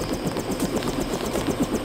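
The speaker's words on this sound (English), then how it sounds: "Your helicopter is waiting at the airfield." Helicopter engine in a video game, a steady rhythmic rotor chop over a continuous whining drone, fairly loud and alone with no talk.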